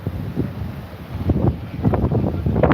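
Steady wind buffeting the microphone on a hilltop in Benidorm, low rumbling gusts that swell and fade continuously for a few seconds, no voices.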